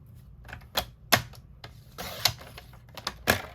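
Cardstock sliced on a paper trimmer during a Christmas-themed stamping craft session: a series of sharp, close clicks and swishes in irregular rhythm, with a few louder chops standing out against a quiet background.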